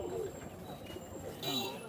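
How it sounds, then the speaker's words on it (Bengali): Chapra pigeons coo softly in short low phrases at a busy pigeon market in Khulna, with chirps and general crowd noise and voices around them throughout. "এই দুইটা ভাই চাপড়া কবুতর এই দুটা চাপড়া কবুতর"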